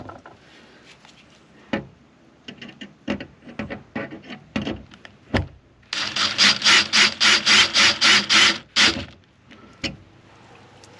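A cordless drill with its clutch set to 7 drives screws into wooden ceiling framing in a ProMaster van. Short scattered clicks and bursts give way to a loud, rhythmic ratcheting clatter as the clutch slips, and then a few final taps.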